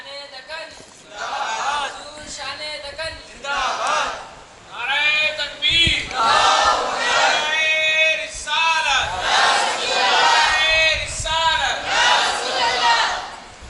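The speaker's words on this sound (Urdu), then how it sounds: "نعرے لگا بیٹا۔" A large crowd at a milad religious gathering chants slogans in loud, surging unison calls that rise and fall in waves, with shouted responses filling most of the stretch after a brief spoken lead-in.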